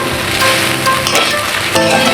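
Water poured into a hot pan of frying khichuri ingredients gives a loud continuous hiss, with brief sharper bursts of sizzle partway through, over faint tonal background music.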